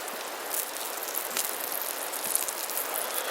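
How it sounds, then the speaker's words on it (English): Soft, steady rain patters in a continuous hiss with occasional small drips, quiet and with no voices. "Yeah, it's definitely raining."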